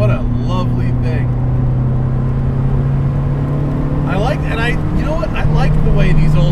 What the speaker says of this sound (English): I like the way these old cars go in and out of boost.